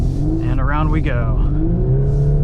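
A 2022 Volkswagen Golf R with a DSG gearbox accelerates on a snowy course, giving a loud, close engine drone with rising revs, while a voice talks over it.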